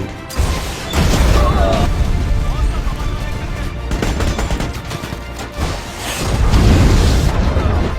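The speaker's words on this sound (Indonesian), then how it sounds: "Setelah itu sebuah RPG kembali ditembakkan." Rocket-propelled grenade launched and exploding in a war film, heavy booms and crashing blasts mixed with gunfire and loud cinematic rumble, with voices under the action.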